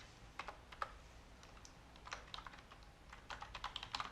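Light typing on a computer keyboard, a close, soft patter of irregular key clicks coming in short bursts that grow denser toward the end, with no talking.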